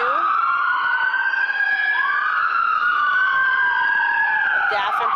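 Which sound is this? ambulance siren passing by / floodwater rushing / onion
ambulance siren passing by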